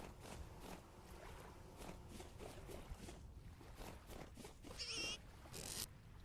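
Pigs in the survival game Vintage Story let out two brief squealing grunts near the end, quiet against a steady hushed background of ambient game noise.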